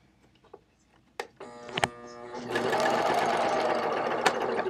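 An air thread serger stitches fabric, starting with a few ticks and short bursts, then settling into a steady, loud whirring run that holds to the end.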